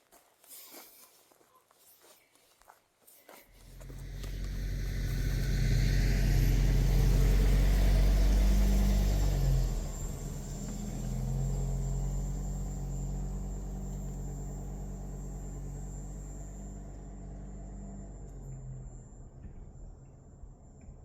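An RV engine starts after a near-silent opening, builds to a loud, low rumble, then eases into a steady drone as the vehicle rolls along the road, with no voices over it.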